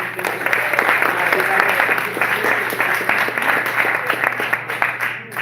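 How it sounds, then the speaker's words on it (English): Audience applause at a micro film festival, many hands clapping in a dense, lively burst that swells and stays strong before easing slightly at the end, close and loud, with a low steady hum underneath. "Awesome. Round of applause."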